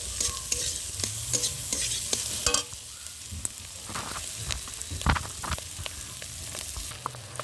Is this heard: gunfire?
no